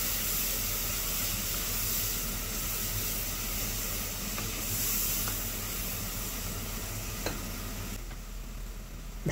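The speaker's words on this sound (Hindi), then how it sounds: "1 से 2 मिनट तक मसाले को भूनेंगे।" Soaked spice masala frying in a hot pan, a continuous sizzle and hiss with occasional stirring scrapes and faint ticks, heard steadily with no talking.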